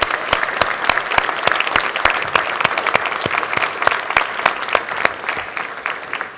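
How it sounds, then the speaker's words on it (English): At a digital health startup demo day, an audience applauds the advisors with lively clapping. Sharp individual claps stand out above the crowd's steady roar, and the applause fades a little toward the end with no talk. "So a special round of applause for our advisors"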